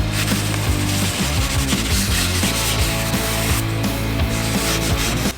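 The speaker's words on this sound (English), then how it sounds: "I'm gonna keep sanding it with my 320 till I feather them out pretty good" Continuous rhythmic wet sanding of a car bumper with 320-grit sandpaper, back-and-forth strokes close up and steady, with no talking.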